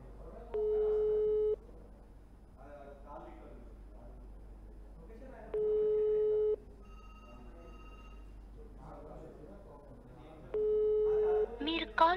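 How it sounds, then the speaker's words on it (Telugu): An outgoing phone call rings unanswered, with three evenly spaced ring tones separated by pauses, while someone talks quietly underneath. "రింగ్ అవుతుంది ఫోన్."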